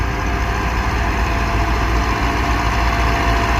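A loaded tractor's engine labours up a steep slope near a dam, a loud, unbroken low rumble and drone that holds steady throughout with no voices.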